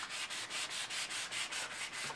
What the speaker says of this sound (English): This is the first time we're sanding it other than the surface prep.